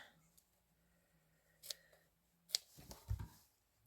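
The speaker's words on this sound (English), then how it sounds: "And I'll probably cut just a little bit here" Scissors cut paper for a handmade baby journal: a few quiet, separate snips and crisp paper rustles, close by and otherwise calm, with no talking.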